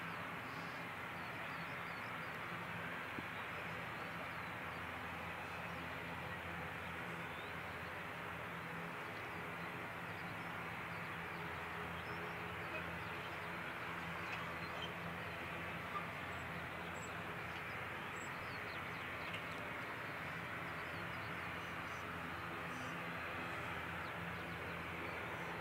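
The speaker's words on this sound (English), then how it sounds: "And just check that ATR is off to Invercargill as 717." An ATR turboprop airliner, NZ 717 to Invercargill, departs on runway 29 at the Canterbury Aero Club: a faint, distant, steady broadband drone that holds without clear peaks throughout.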